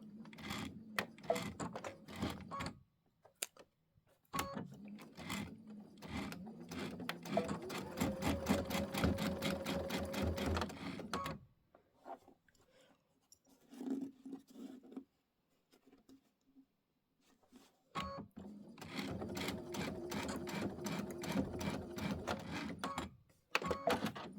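An embroidery sewing machine stitches at close range, running in long bursts of rapid, steady needle clatter broken by quieter gaps with soft handling noises.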